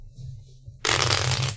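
Ticket to Ride New York game cards are shuffled after a brief quiet moment, giving a sudden close, loud, continuous riffling burst that runs for about a second.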